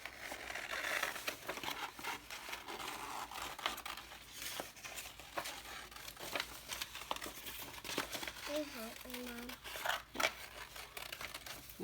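Paper being cut out into a shape with scissors for a geometric chicken craft, giving soft, close crinkling and snipping with brief rustles, quiet and steady throughout.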